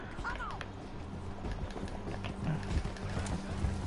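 Horse in Red Dead Redemption 2 galloping with steady clip-clop hoofbeats, mixed with game ambience and voices talking over it.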